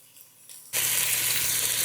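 Butter hits hot olive oil in a pan of frying meatballs, a quiet moment giving way to a sudden loud burst of sizzling that then stays close and steady.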